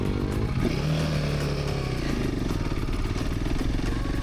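Off-road trail motorcycle, a Kove 450 or Royal Enfield Himalayan, climbing a trail with the throttle held open, engine note rising then pulling hard in a loud continuous buzzing drone, close to the listener.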